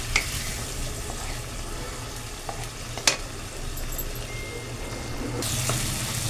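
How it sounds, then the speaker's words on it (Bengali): Spice paste frying in a pan on low heat while a fish-head muri ghonto is cooked, a steady soft sizzle with occasional stirring scrapes and a sharper clack, continuous and close. "এটা আমি মশলাটা ভাজবো"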